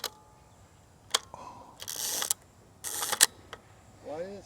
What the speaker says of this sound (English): Why did it sound like that shutter was hanging though?